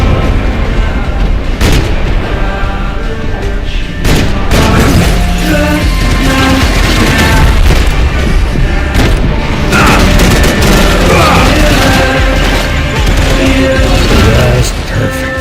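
Grenade explosions in Max Payne 3, repeated heavy booms and blasts mixed with gunfire and shattering debris, loud and dense throughout with barely a pause.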